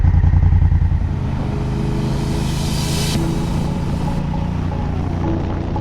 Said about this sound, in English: It sounds like his muffler fell off.